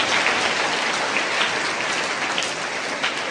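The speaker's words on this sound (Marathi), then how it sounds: "टाळ्या वाजवायचे" A crowd applauds a Sanskrit teacher and a sister at a school event, with dense, steady clapping that holds at an even level throughout and no talking over it.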